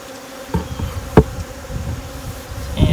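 Robber bees buzz steadily around a beehive that is being treated and moved, a close, continuous insect hum broken by a few sharp knocks and bumps, with no voices.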